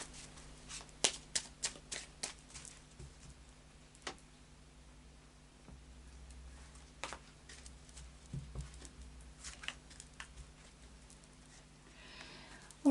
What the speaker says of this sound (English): So I'll just do a little bit more of a shuffle.